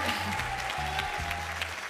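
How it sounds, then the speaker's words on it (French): A studio audience on a French TV game show claps steadily in brief applause, with a bright tone and faint music underneath. "On peut applaudir Colette, s'il vous plaît. Bravo Colette."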